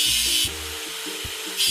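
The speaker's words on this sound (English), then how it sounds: "Let's get rid of the machine's rust." Scraping rust off a machine in a video game: a short burst of gritty rubbing with low tonal thuds beneath it, close and fairly loud.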